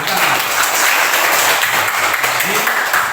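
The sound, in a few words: applause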